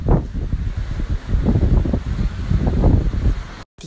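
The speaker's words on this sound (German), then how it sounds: "ganz schön wild das Meer heute" Rough, wild sea surf rolls in under gusting wind, a steady broadband roar with swelling surges and heavy wind buffeting on the microphone, ending in a brief dropout.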